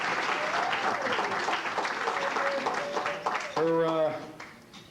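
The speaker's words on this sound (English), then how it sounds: "when I say legendary Cookie Brummage, you're supposed to applaud wildly" Applause from the audience at the 13th annual Enfield Athletic Hall of Fame ceremony, a steady broad wash of clapping that runs through the clip with crowd noise and voices mixed in.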